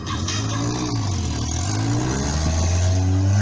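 A car engine revving at an outdoor stunt show, a loud, close, continuous drone that rises and dips in pitch as the throttle is worked, with no talk.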